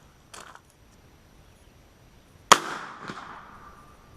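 An AirForce Texan .457 air rifle fires at a 100-yard target outdoors: a faint click first, then one loud sharp report that rings and decays over about a second.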